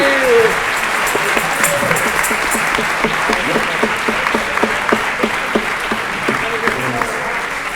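A crowd claps steadily throughout after a live music performance, with a few rhythmic claps standing out and a voice or two calling out over the applause.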